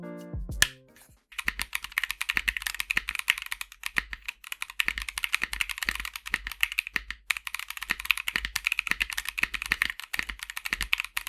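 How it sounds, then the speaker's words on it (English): Close typing on a custom mechanical keyboard gives a fast, steady run of crisp clacks, with deeper thuds from the spacebar mixed in, heard alone without talk. "this has possibly my best sounding spacebar"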